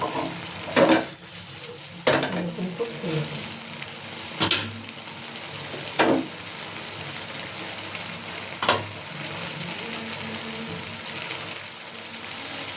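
Soft eggplant frying in a pan sizzles steadily and up close, with a few scraping stirs of a spatula standing out at intervals.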